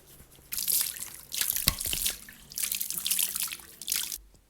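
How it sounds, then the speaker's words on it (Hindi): Water splashes in bursts during face washing, with dripping and running water from a tap in between the splashes. "बस आपको हल्का सा मुँह पर पानी मारना है"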